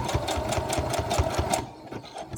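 A sewing machine stitches hair wefts onto a wig cap, its needle pounding in a fast, even mechanical rhythm close up before it slows and stops near the end.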